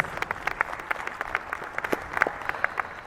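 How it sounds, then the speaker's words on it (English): Audience applause at an Independence Day celebration, a soft, distant patter of many hands clapping steadily for a few seconds with no voices over it. "Please give them a loud round of applause."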